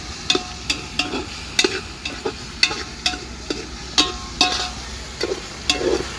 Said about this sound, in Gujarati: હવે આપણે નાખી દીધા છે ટમાટા અને તેને સારી રીતે શેકી જાય ત્યાં સુધી તેને તેલમાં શેકાવા દઈશું